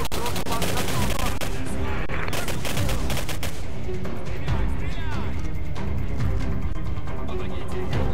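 Gunfire in the video game Singularity, dense rapid bursts of shots layered with game effects, loud and continuous, with a speaker's voice heard briefly over the din.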